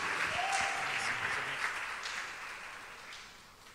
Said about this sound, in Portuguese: Dê um aplauso ao Senhor e diga: eu recebo em nome de Jesus.